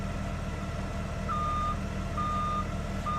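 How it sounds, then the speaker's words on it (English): Garbage truck engines idle in a low, constant rumble close by, while a reversing truck sends out repeated steady backup beeps over the drone. "All I hear is engine noise."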